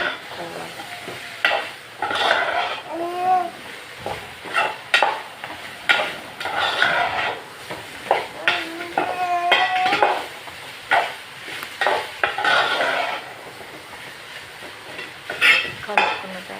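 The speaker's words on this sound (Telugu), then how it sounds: "సన్నగా కట్ చేసిన బీరకాయ ముక్కలు అందులో వేసుకోవాలి. వేసుకొని మంచిగా కలుపుకోవాలి." Thin slices of ridge gourd stirred in a hot pan with repeated scraping strokes of a utensil, clinks against the metal and a light sizzle underneath. The sound is close, and the stirring comes in irregular bursts with no talking.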